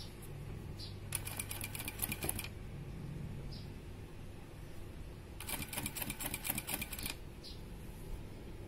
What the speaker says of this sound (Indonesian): Hati-hati ketika menjahit, jangan sampai jarum jatuh pada kertas yang membuat kertas jadi ikutan terjahit.